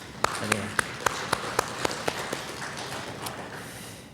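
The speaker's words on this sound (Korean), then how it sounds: "우리 박수 한번 치겠습니다" A church congregation claps during a Sunday worship service, a run of distinct claps at a steady rhythm that fades into a softer, scattered patter, heard in a reverberant hall.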